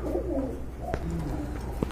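Budapest pigeons coo softly at close range in a pigeon loft, with low throaty calls repeating over about two seconds and a couple of brief sharper sounds mixed in.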